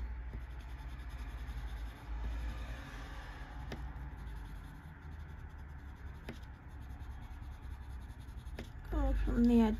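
Colouring pencil strokes scratching across paper while tinting a kangaroo illustration, soft steady scraping and rubbing close by with a few sharper taps, over a low background rumble.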